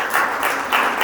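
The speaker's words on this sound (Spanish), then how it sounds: "Dale un aplauso al Señor" Church congregation clapping for the Lord during a worship service, a brief, loud burst of hands with a few rhythmic swells and no voices.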